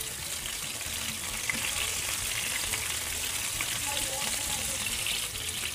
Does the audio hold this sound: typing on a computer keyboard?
no